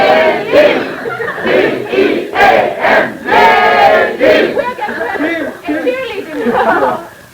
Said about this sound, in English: Give us an example of a cheer as you learned it in American high schools